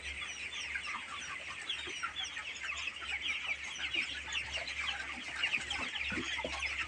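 Chickens clucking steadily in a poultry pen, a dense chorus of small overlapping calls spread across the whole stretch at moderate distance, with a low steady hum underneath.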